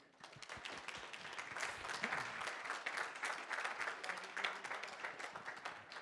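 A forum audience claps at a humanities discussion on rhetoric and democracy, a quiet, distant patter of many hands sustained for several seconds with faint murmuring underneath.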